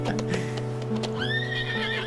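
A flying horse in a gacha video game trailer, heard as a few quick hoofbeats followed by a loud, rising neigh over a steady musical backdrop.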